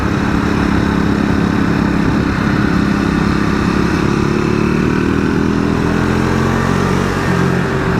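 A 2025 Triumph Scrambler 400X single-cylinder motorcycle engine droning loud and steady while riding, with a continuous exhaust note and wind rush and a slight rise in engine pitch near the end.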